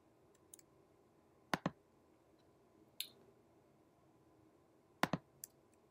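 Sparse computer mouse clicks while working in the Grouper web interface, quiet and close, a few single and double clicks spread over a hushed room background with no talking.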